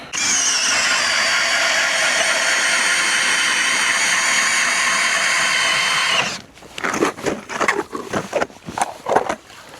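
A motorized ice auger bores a fishing hole through lake ice with a loud, steady, close high whine for about six seconds, then cuts off, followed by clattering scraping and knocking of ice chips.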